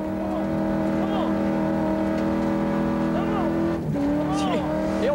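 A big V8 Ford Mustang race car labors uphill at high altitude on the Pikes Peak course, a steady sustained engine drone with rising and falling revs and a brief dip near the end, under a commentator's talk.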